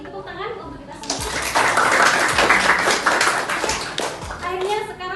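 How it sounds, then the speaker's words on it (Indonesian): A burst of clapping from a group at the end of a university class session builds and holds for a few seconds, with voices chattering before and under it. "Tepuk tangan untuk kita semua."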